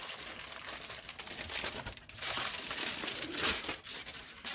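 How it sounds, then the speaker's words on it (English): Aluminum foil peeled off a slab of fudge: close, continuous crinkling and crumpling rustles that swell and ease in irregular waves, with no talking. "We're going to flip this and get all the foil off."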